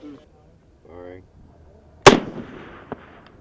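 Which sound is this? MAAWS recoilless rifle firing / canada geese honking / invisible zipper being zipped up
MAAWS recoilless rifle firing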